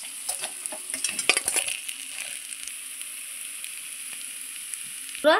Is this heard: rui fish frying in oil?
yes